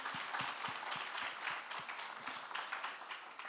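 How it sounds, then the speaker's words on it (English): A public audience at a live debate event claps in a steady wash of applause, individual claps audible within it, sustained at moderate level throughout with no talking. "I want to do a big round of applause for you"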